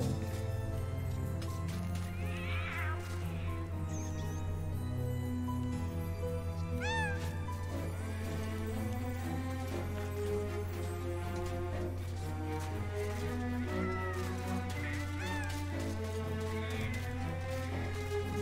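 Cats meow in the Medievil video game, with several short rising calls over a steady drone of game music and ambience, moderately loud throughout.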